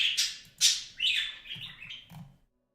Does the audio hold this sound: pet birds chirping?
yes